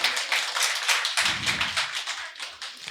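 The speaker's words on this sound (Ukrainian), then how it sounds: "І ще раз аплодуємо" A crowd applauds again with brisk, continuous clapping, a dense rapid patter of many hands that stays fairly even and fairly loud throughout, with no voices on top.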